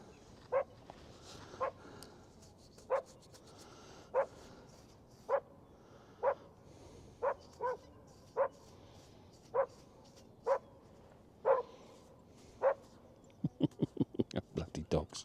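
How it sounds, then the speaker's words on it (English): Dogs bark on a Devon beach during metal detecting, about a dozen separate loud barks spaced a second or so apart, then a quick burst of rapid barking at the end, over faint outdoor background. "Bloody dogs."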